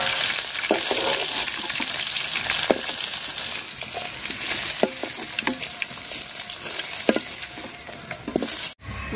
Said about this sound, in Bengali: মাছের মাথাটা আমি লাল লাল করে ভাজা নিচ্ছি